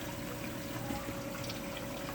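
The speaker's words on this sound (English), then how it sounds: "the water flowing through" Water runs through the valve of an FX Pro resonator during a leak test, a faint steady trickling and rushing flow with a thin hum underneath, continuous and even.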